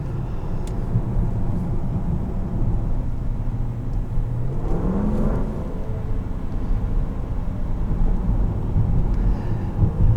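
A 2020 Land Rover Range Rover P525 HSE long-wheelbase, its V8 engine droning in a steady low rumble from inside the cabin with road noise, swelling briefly midway as it revs.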